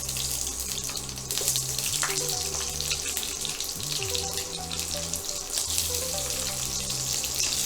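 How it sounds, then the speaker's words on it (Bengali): Cubed onion fries in oil in a kadai, giving a continuous, fairly loud hissing sizzle with no pauses, heard under steady background music. "কড়াইতে যে তেলটা রয়েছে সেটাতে আমরা কিউব করে কাটা পেঁয়াজটা দিয়ে দিচ্ছি"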